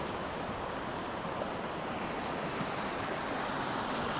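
A river in Germany's Black Forest flows near an old mill house, giving a steady, dense rushing wash of water that holds an even level throughout with no voices.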